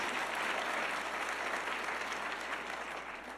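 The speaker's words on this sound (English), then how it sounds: "you can go ahead and clap, that's huge." A college opening-day audience applauds in a sustained, even wash of clapping that stays steady throughout, heard from within the hall with no talk over it.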